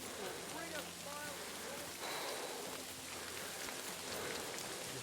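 Steady rain pours down in the medieval world of Kingdom Come: Deliverance II, a dense even hiss of drops on surfaces running throughout, with a faint voice and tones beneath it.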